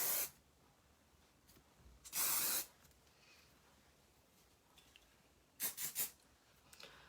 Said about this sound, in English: And then we're just going to end with a bit of hairspray again.